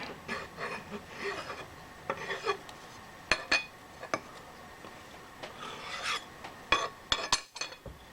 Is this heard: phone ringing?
no